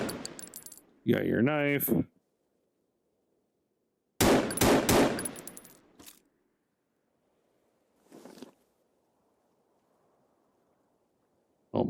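Pistol gunfire in the Artemis game, several sharp bursts of shots and mechanical clatter separated by near-silent gaps, with a brief spoken remark.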